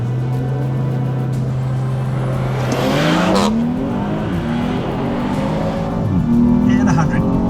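A BMW M340i xDrive sedan in sport transmission mode pulls hard on a race track, the engine note climbing through rising pitch sweeps with a gear change mid-run, loud and close, revving strongly toward the end.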